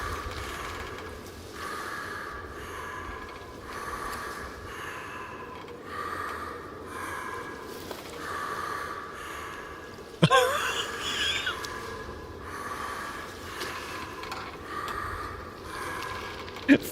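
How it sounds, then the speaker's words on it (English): A Darth Vader-like mechanical breath pulses in the Neyyah game world, slow rhythmic inhales and exhales repeating steadily, with a sharp louder thump partway through. "Vader noise is intensifying."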